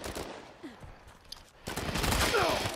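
Gunfire in Uncharted 4 multiplayer, a rapid fusillade of shots growing louder and denser in the second half, with faint scattered game sounds, no talking.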